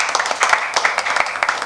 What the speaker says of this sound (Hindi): इनकी भी तालियां हो जाए